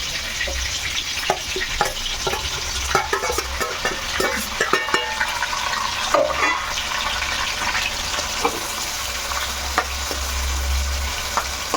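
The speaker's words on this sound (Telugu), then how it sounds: "ఇప్పుడు ఇవన్నీ కూడా మనం ఆయిల్లోనే ఇలా ఫ్రై చేసుకోవాలి బాగా మగ్గిదాకా" Stuffed bitter gourd fries in oil with masala, crackling and sizzling continuously, while a spoon stirs and scrapes the pan in repeated sharp clatters close by.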